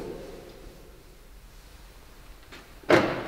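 A quiet hum, then a faint click and a solid, thudding door opening near the end as a new Volkswagen Touran unlocks by keyless entry, close by, with no voices.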